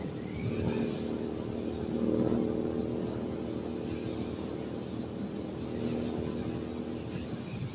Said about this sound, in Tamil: இப்போ வந்து பார்த்தீங்கன்னா 100ல போகுது வண்டி